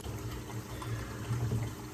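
Tap water runs steadily over a soapy dish sponge at a kitchen sink, a continuous close splashing rush with no voices.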